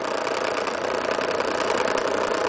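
A Rodin sandwich coil motor spins at high RPM, giving a steady, dense buzzing whir with a faint rattly vibration, close and constant throughout, with no talk.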